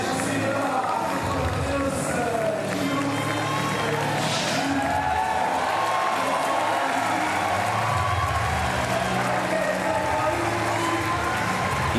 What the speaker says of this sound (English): Crowd really getting into this competition at this very early stage.